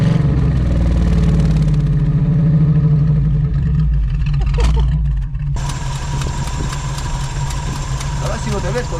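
A Camaro Z28 V8 idling, a deep, steady rumble with a rhythmic low throb, close up and continuous, while people talk over it and the background shifts partway through.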